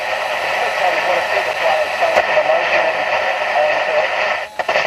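A steady electrical buzz comes from the vibrator power supply of a 1947 Astor car radio, a constant hum with broadband hiss that runs unbroken and fairly loud before briefly cutting out near the end.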